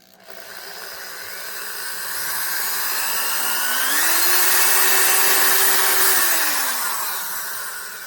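A Makita 6406 3/8-inch electric drill runs steadily and close, its motor whine rising in pitch as it spins up, holding, then easing slightly toward the end.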